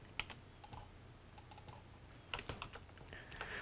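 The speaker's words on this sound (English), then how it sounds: "we would type in the password to unprotect it" A password being typed on a computer keyboard to unprotect an Excel 2013 worksheet, heard as short, quiet bursts of close key taps with brief pauses between them.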